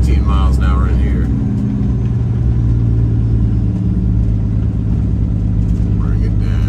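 Semi truck engine droning steadily as it downshifts to 8th gear, a low continuous rumble heard from inside the cab with a person talking over it.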